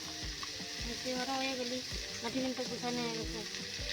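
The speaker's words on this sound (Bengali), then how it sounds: "কড়াই তো রুই মাছ ভাজছে" Rohu fish sizzles and spits in hot oil in a wok, a steady close-up frying crackle with a faint voice murmuring underneath.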